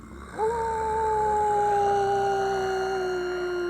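In the Fallout 76 video game, a spooky sound machine at a Halloween camp emits a long, eerie, wavering howl-like tone that rises sharply and then glides slowly downward over a faint ambient hum.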